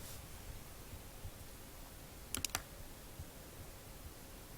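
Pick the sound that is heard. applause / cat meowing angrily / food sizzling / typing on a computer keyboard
typing on a computer keyboard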